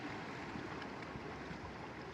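Ocean waves at sunset wash in as a continuous, fairly soft broadband roar, steady surf noise with no voices and no distinct breaks between swells.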